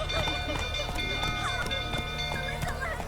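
Roach, the horse in The Witcher 3 video game, gallops in a steady, rapid run of hoofbeats, close and continuous for the whole stretch, with a voice sounding in the background.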